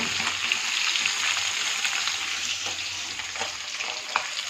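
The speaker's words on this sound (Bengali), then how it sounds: "আমি মাছটা বেশি তো ভাজবো না, বেশি ভাজলে আবার শক্ত হয়ে যাবে" Fish frying in hot oil, a dense continuous sizzle heard up close, steady throughout with a few faint pops and no talk.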